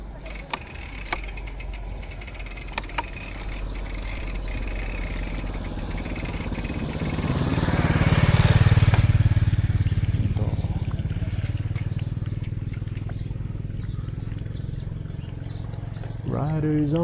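A motorcycle engine drones and swells while riding, its rumble rising to a loud peak midway and then easing, with wind and road noise and a few short clicks, heard close up.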